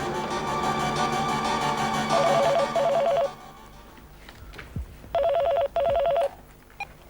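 A telephone rings during a call in a Hindi TV drama scene: repeated electronic ring bursts in two pairs, first over a louder background bed, then clearer and more isolated, with brief gaps between rings.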